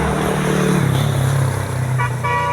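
A Kabut Biru bus sounds its telolet horn, loud and near, first as a droning horn tone over engine rumble, then as short melodic toots near the end.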